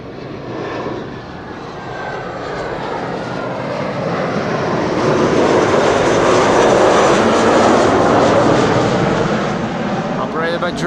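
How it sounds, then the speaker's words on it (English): A KLM Embraer 190 jet arriving at Amsterdam Schiphol, its engine roar broad and steady, swelling toward the middle as it passes close and then easing slightly, with no talk over it. "KLM Embraer 190 arriving from Aalborg, flight"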